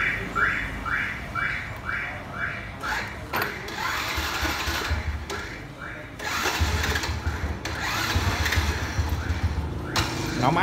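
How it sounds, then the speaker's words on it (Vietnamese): A motorcycle at a dealer's shop in Vietnam cranks with a rapid repeated starter whir, then catches and settles into a steady running idle, with people talking over it throughout. "Nổ máy cái giùm anh ta."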